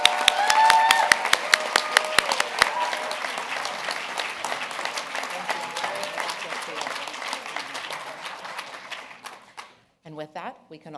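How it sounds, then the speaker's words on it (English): An audience at a gala gives a big round of applause for award recipients at the 2023 Dr. Martin Luther King Jr. Gala. The dense clapping is loud at first, thins and fades over several seconds, and a voice comes in at the end. "Just one more big round of applause for all the award recipients"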